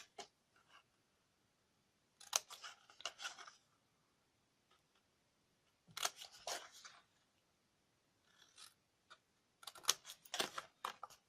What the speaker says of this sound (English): I need to cut away those little flaps there